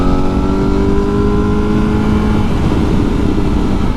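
A Honda CBR1000RR-R Fireblade SP superbike engine pulls hard under acceleration, with a loud, close, continuous droning tone that climbs steadily in pitch, and no talking.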